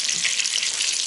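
Meat browning in a frying pan for an Irish stew gives a steady, dense sizzle that holds evenly throughout, close and moderately loud, with no voices.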